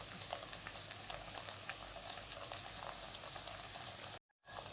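Small puris fry in hot oil, a dense steady bubbling sizzle heard close and evenly throughout, cut off by a sudden brief silence just before the end.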